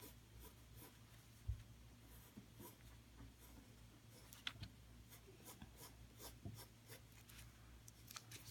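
A pencil scratches and rubs faintly across paper while tracing a sketch of a largemouth bass, soft continuous strokes broken by a few small taps, with no talking.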